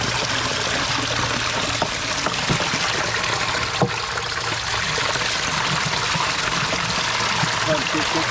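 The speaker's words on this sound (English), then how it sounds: "You see it pouring into the catch basin." Water pours steadily into a trench drain catch basin of a gravity and sump pump drainage system, a continuous close rushing trickle with occasional clunks, under someone talking.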